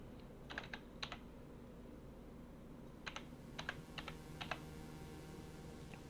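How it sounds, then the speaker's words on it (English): Keystrokes on a computer keyboard come in short clustered bursts separated by pauses, close and fairly quiet over a steady background hum, with no talking. "Heard me type on the keyboard."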